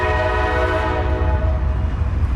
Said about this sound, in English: If I can talk without the railroad interrupting me.